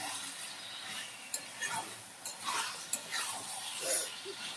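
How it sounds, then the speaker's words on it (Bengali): Mutton fries in a pan while being stirred, with a soft sizzle under intermittent spatula scrapes and light clinks against the metal. "এই যে আমি মটনটাকে এখন এর মধ্যে দিয়ে দেবো, আমি দিয়ে দিলাম। দিয়ে একে একে সব কষাবো।"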